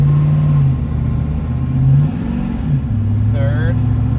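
A car with a 6L80E automatic transmission accelerates close up, its engine note rising and dropping as the gears shift, with a brief voice over the running engine.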